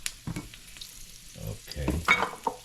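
Thyme dropped into hot oil sizzles quietly in a pan, with soft crackles and a few utensil knocks over a short stretch, close and fairly faint.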